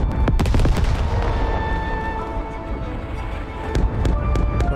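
Gunshots and machine gun fire in the Second Front video game, several sharp cracks and booms at the start and again toward the end, with a rumbling battle din between them.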